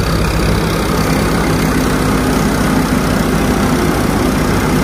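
Loud, steady drone of a tractor-powered thresher at work in Mukandgarh, its low engine rumble and pulsing machinery heard up close without a break.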